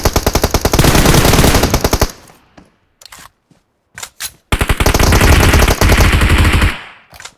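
Loud bursts of rapid automatic gunfire in the battle royale game BGMI, with a long burst, a few short scattered shots and then another sustained burst, all close and dominant with no talking.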